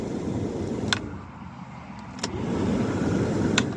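A car's ignition clicks on and off a few times, brief sharp electronic tones over a low steady rumble, close by.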